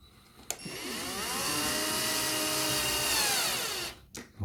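A cordless screwdriver drives a screw into a small wooden batten with a steady, rising whine for about three and a half seconds, close by, with a brief click before and a couple of knocks after.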